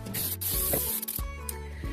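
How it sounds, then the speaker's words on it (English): Non-stick cooking spray hisses onto a dish in a kitchen, in several short, close bursts of spray separated by brief gaps. "And I'm going to spray it."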